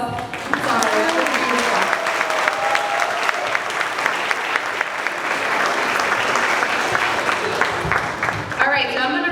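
Audience applause at a fifth grade moving up ceremony, a long sustained wash of many hands clapping with a voice briefly audible near the start and end.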